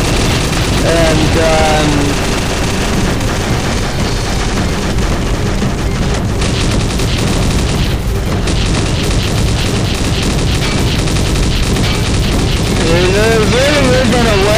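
Combat Arms video game battle: dense, loud bursts of gunfire and booming explosions in constant succession, with a voice talking over the combat.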